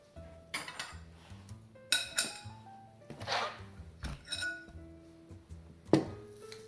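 Cheddar cheese keto biscuit dough is spooned onto a baking sheet, giving scattered clinks and taps of a metal spoon against the pan and bowl, close and fairly quiet, in irregular bursts with near silence between.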